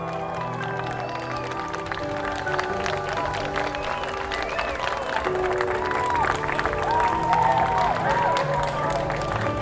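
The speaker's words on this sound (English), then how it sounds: "A big applause to them, please." Wedding guests at a beach ceremony in Cancun applaud the newly pronounced couple, with sustained, dense clapping and scattered cheers building steadily louder, while music plays underneath.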